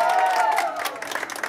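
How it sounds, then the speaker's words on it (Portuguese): Guests at a birthday party clap and cheer, a brief burst of clapping under a sustained voice and crowd noise. "Uma salva de palmas,"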